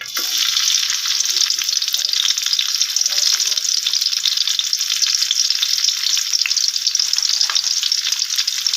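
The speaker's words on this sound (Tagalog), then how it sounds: "So first we need to throw in the garlic." Garlic fries in a hot pan for a Filipino pancit guisado, giving a steady, loud, close sizzle with crackling pops that holds unbroken throughout, with no talking.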